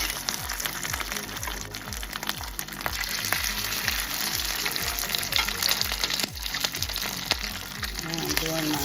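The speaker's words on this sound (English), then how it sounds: "be ready for popping because it's gonna be a lot of popping" Grits patties with cheese fry in hot oil, giving a dense, steady sizzle full of sharp pops and crackles, with regular soft thumps underneath, fairly faint and without talk.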